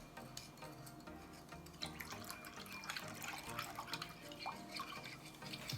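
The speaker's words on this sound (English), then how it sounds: "I'm going to now add some water." Steady running and splashing water poured into a pan of sauce, continuous and close with small drips and clinks throughout.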